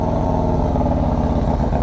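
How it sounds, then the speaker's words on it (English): A motorcycle fitted with an HPI and a Woods cam idles on a cold start after sitting a couple of days, giving a loud, steady, lumpy low rumble close by with no talk. "There's a complete cold start."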